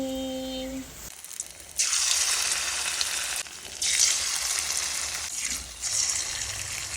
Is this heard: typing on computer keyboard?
no